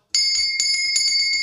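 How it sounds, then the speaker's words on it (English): A small bell rings in rapid repeated strikes, bright and sustained, ringing continuously with a steady rhythm and no talk over it. "Ring that bell."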